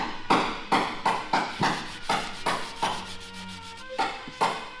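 Body filler on a dented car panel being sanded by hand with an acrylic block, in rhythmic back-and-forth rasping strokes, about a dozen in a steady cadence, close and fairly quiet with no talk.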